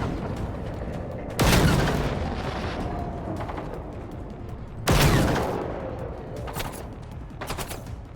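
AK rifle fire in the video game Generation Zero cracks out in two loud bursts several seconds apart, each a sharp blast with a ringing tail, followed by a few fainter shots.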